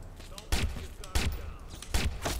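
Three loud, sharp gunshots spaced roughly evenly in the Watch Dogs video game, each a broadband burst with a short decay, over a low game background with someone talking faintly.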